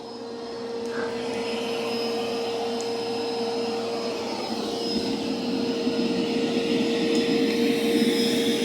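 Dreame X60 Max Ultra robot vacuum running steadily and close, a continuous whirring motor drone with a high whine and rushing airflow hiss, no talking.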